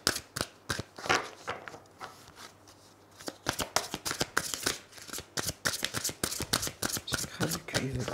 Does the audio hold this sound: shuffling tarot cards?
yes